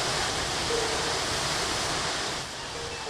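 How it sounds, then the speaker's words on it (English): Waterfall on the Breiðdalsá river spilling into a big deep pool, heard as a dense, steady rushing roar that stays constant and fairly close throughout. "The main falls spill over into a big deep pool that can be fished from both banks"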